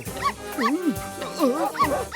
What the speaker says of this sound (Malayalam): ഈ പട്ടികൾക്ക് നമ്മളായിട്ട് എന്താ പ്രശ്നം?